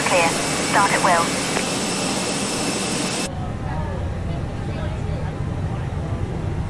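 Airbus A320 jet engines run in the MSFS2020 flight simulator, giving a loud broadband roar with a high whine. The sound drops abruptly to a duller, quieter rumble partway through, and a brief voice is heard early on.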